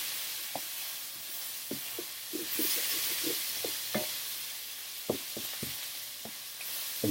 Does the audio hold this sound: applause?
no